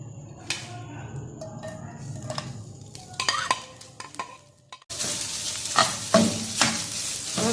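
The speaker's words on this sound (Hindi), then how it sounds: "अब हम चिकन को 2 मिनट कुक करेंगे, थोड़ा सा ये फ्राई हो जाए।" Chopped boiled chicken frying in a tablespoon of oil in a pan, with close clattering stirs and scrapes that give way to a louder, steady sizzle in the second half.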